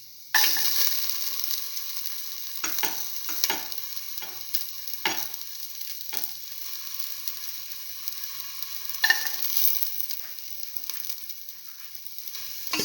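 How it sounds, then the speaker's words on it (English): Garlic sizzling in a pan while an eggplant and split mung bean dish is cooked, a faint steady crackle broken by repeated short bursts of spitting and stirring. "Put in the garlic"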